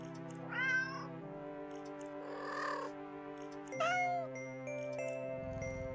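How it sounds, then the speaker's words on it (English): Several cats in a video game meow contentedly over sustained musical tones, with two clear rising meows standing out and a brief brighter jingle between them. "The sound of happy cats munching away at their fish fills your ears."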